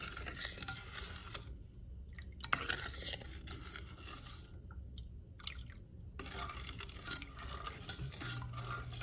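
Milk and sugar being stirred in a pot on the stove: soft scraping of a utensil against the pot with light liquid sloshing and faint sizzle, quiet and close, in intermittent strokes.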